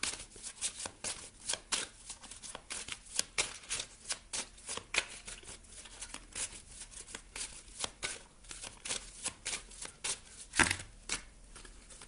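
Tarot cards being shuffled for a card reading, a steady run of crisp riffling and slapping bursts with one louder snap near the end, close and without any voice.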